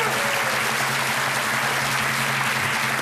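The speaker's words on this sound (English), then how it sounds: "Give us a round of applause." Studio audience applause on a British darts game show Christmas special, a dense, steady wash of clapping from a large crowd that holds loud and even for the full stretch with no voices over it.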